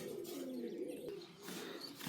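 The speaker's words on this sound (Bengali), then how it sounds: "তো আসুন আর একটা পায়রা দেখায়" Pigeons coo softly and close by, with low, rolling calls over a quiet background.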